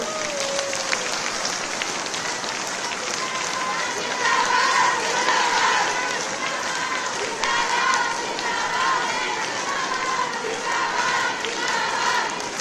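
A large crowd applauds loudly at a women's reservation rally in Jaipur, the clapping building into a dense, sustained roar with faint voices and a little shouting mixed in.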